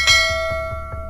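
A notification bell chimes, one bright ringing strike followed by a few softer repeated tones fading out, clear and alone.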